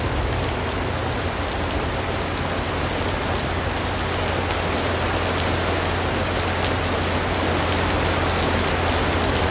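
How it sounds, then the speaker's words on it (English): Torrential thunderstorm rain pours down in a dense, steady, loud hiss that continues without break throughout, with no voices. "boom, you're getting all this torrential rain here"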